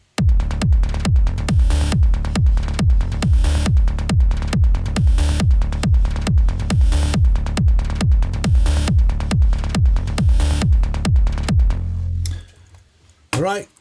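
Electronic kick drum and bass play together in a steady, driving pattern, with punchy booming kicks repeating about four times a second under sustained bass for roughly twelve seconds before cutting off abruptly.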